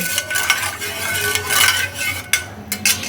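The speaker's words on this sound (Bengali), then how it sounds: "নুনটাকে জলের সাথে ভালো করে মিশিয়ে নিতে হবে" A spoon stirs salt into hot water in a bowl, giving a steady scraping swirl with a few light clinks against the sides, close and alone.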